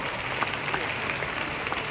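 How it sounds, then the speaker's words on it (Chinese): An audience at a leadership training event in a Malaysian convention hall applauds, with a dense, even patter of many hands at moderate distance, continuous through the moment. "我们再次给老板一个掌声好不好？"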